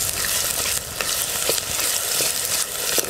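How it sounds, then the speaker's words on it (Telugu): Ginger paste fries in hot oil with roasted onions and is stirred, giving a steady loud sizzle with soft scraping bursts of the spoon, and no talking. "ఇట్లా ఉల్లిగడ్డ రోస్ట్ అయినాక అల్లం పేస్ట్ వేసి బాగా పచ్చివాసన పోయే వరకు కలుపుకోవాలండి"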